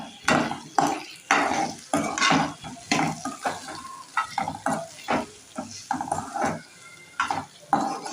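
Salt and turmeric sizzle in hot oil during cooking of morayo khichdi. They give a close, loud sizzle broken into repeated bursts as a spoon stirs and scrapes the pan roughly every half second.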